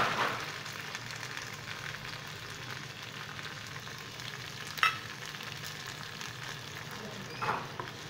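Amodi fish frying in oil in a pan with mustard paste and green chilli paste added, a steady soft sizzle and crackle with a couple of brief stirring clinks, no talk.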